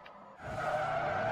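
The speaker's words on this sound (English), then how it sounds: "Try and drift the front wheel drive car." Tires skid and squeal as a front-wheel-drive Honda Civic EG is pushed into a drift in a Forza racing game, a sustained screech that begins quietly and swells to a steady, loud slide.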